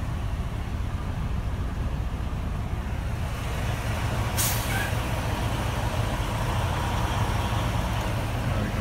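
A semi-truck pulling a 53-foot trailer rumbles steadily as it maneuvers into a parking space, with one sharp hiss of an air brake partway through.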